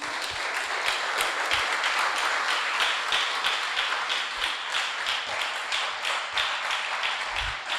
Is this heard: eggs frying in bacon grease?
no